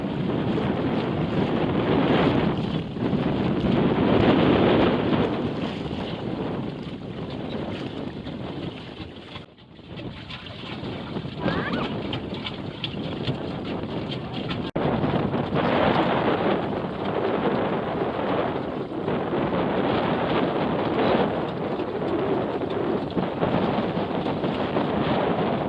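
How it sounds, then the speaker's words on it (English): Gusty wind buffets a sailboat under full sail in the Thousand Islands' Gananoque Narrows, a continuous loud roar of wind across the microphone that swells and eases throughout, with water rushing beneath. "It's gusty, but we still have full sail up"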